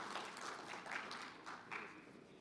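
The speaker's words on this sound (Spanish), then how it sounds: "Un aplauso." Applause from an audience at a technical mining-operations conference, steady and moderately loud across the full stretch, a dense wash of claps with a few brighter swells, heard without talk.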